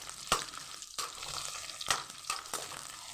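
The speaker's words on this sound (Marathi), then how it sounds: "आता कांदा घातला आहे, तो कांदा परतून घेऊ 1 मिनटं चांगला सॉफ्ट होतं" Chopped onion sautéing in two spoons of hot oil in a pan, a steady sizzle broken by several sharp scraping stirs of a spatula at irregular intervals.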